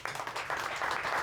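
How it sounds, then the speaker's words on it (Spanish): An audience at a Spanish-language novel presentation claps to welcome the author, a brief, faint patter of applause from a small crowd. "Un aplauso para Mauricio"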